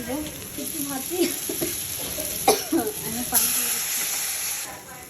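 Koi fish sizzle and hiss in hot spiced oil, a bright frying noise that swells as pieces go in, while a person speaks over it.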